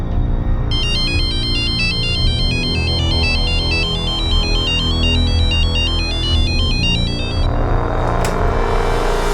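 A telephone ringtone chirps loudly in a repeating electronic trill over a low humming background after a call is placed to Dubai, cutting off near the end with no talking.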